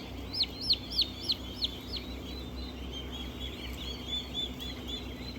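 Young turkey poults peep in a farm barn, a run of about six quick high chirps followed by softer scattered calls over a low steady hum.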